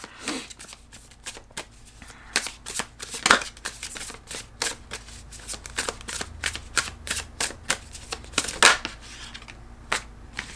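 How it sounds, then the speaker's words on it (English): Tarot cards are shuffled by hand in quick, crisp riffles and flicks, close and distinct, repeating in uneven bursts for several seconds with no talking. "So I'm going to pull cards"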